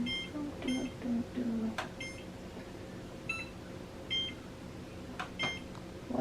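A kitchen timer is being set while tea steeps, giving several short, bright electronic beeps spaced irregularly over a quiet room, with a low murmur early on.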